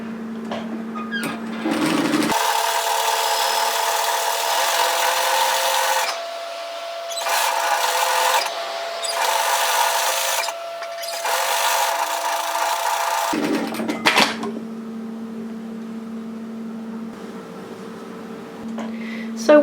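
A sewing machine stitches a second row parallel to the first on a quarter-yoke Molly sweater, running in several close, steady bursts separated by short pauses.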